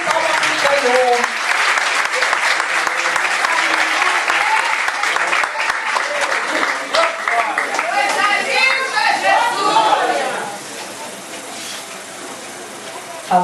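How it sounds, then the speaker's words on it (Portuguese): A church congregation at a communion service claps loudly and steadily, a dense continuous applause that fades near the end, with voices speaking over it. "Dá uma salva de palmas para o Senhor."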